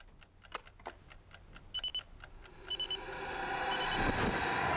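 An alarm clock ticks and then rings in short repeated bursts, followed by a rising rushing noise that builds toward the end.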